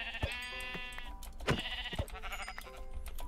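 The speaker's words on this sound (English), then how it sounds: "Hello, sheep." Sheep in the Minecraft video game bleating in several short, wavering calls spread across a few seconds, close and moderately loud, with light game ambience and no talking.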